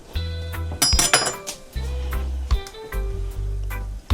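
A metal lid clanks onto a pot of rice with butter, a couple of sharp clinks and rattles against the rim amid a low hum.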